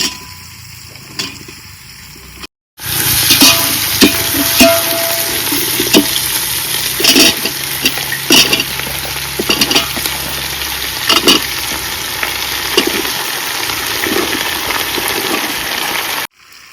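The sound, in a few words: jackfruit pieces stirred and frying in spiced tempering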